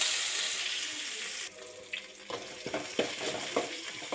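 Mustard seeds, cumin and curry leaves frying in hot oil: a steady hissing sizzle that drops in level partway through, followed by scattered crackles and spatters, close and moderately quiet.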